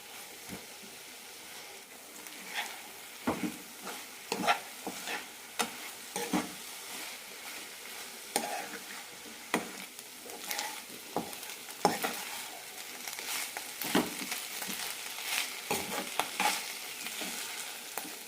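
Palakkad-style avial being stirred and cooked down in a pan over a low flame: a soft continuous sizzle punctuated by irregular scraping stirs, close and fairly quiet, with no talking.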